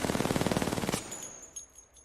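Rapid R99 submachine gun fire in Apex Legends, a fast, evenly spaced burst of about a second of sharp shots, then the burst cuts off and brief metallic clinks and a faint tail follow.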